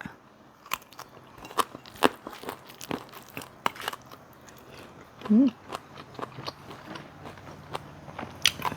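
Rice mixed by hand with fried mackerel and Karen fermented fish paste, eaten with small fresh jackfruit: close, sparse crunchy bites and wet chewing clicks, with a brief low murmur partway through.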